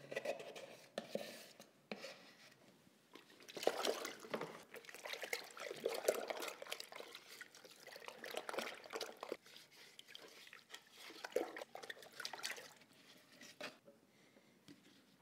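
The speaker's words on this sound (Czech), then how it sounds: "je potřeba vypláchnout štětec ve vodě a nádobu a nářadí, který jsme používali" A brush, container and tools being rinsed in water after work with acrylic resin, with intermittent close sloshing, swishing and trickling in irregular bursts and some scraping knocks, fairly faint.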